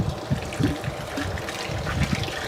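Water gushes and trickles steadily into a tank while a hydroponic nutrient solution is refilled, a continuous close splashing flow with small bubbling bursts and no talking.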